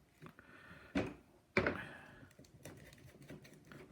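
A flower is cut into a cross section during a school dissection, giving a couple of sharp, quiet snips or clicks amid soft handling noise in a quiet room.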